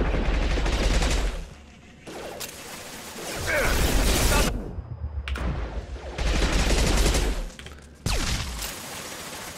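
Rapid gunfire in the Mass Effect 2 game, loud close bursts of automatic shots separated by short pauses, dense and alone without talk.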